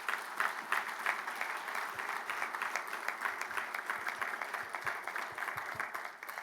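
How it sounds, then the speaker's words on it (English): An audience at a defense industry conference applauds software directorate staff with a thick, continuous wash of many hands clapping. It is moderately loud and even throughout, with a few sharper individual claps standing out near the end. "Let's give them a round of applause."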